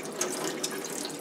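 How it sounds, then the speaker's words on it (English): Tap water runs steadily through an N95 respirator mask at a sink, a continuous close hiss with slight splashing and no talk. "I want to have the water kind of flush through."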